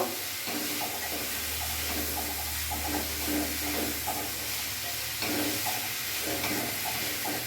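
Drained taro stolons are stirred into spices in a hot pan, giving a continuous soft sizzle and hiss broken by a steady rhythm of scraping, clattering stirring strokes, close and moderately quiet.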